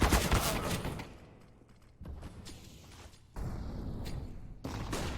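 Gunfire in a Counter-Strike: Global Offensive esports match: bursts of shots crackle in several loud clusters, opening with a dense volley, then a quieter stretch before further rapid shots, with no talk over them.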